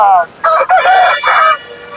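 A rooster crows loudly and close by at a weekly poultry market in Kunnathur, Tiruppur, a drawn-out cock-a-doodle-doo in several bursts, with faint market clucking in the background.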